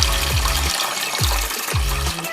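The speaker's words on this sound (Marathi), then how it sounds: "आपण त्यात पाणी घालूया." Water gushes and splashes into an idli steamer pot in steady pours, each stream dropping in pitch as the vessel fills, with no talking.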